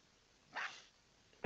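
Dogs in the video game Krafteers give one short, sharp bark, followed a moment later by a brief clipped yip at the very end, with no talking over them.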